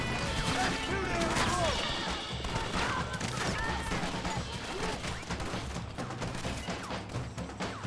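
Gunfire in a Red Dead Redemption shootout in Mexico: dense, continuous crashing shots and impacts layered over rumbling game music, loud throughout with no clear pause.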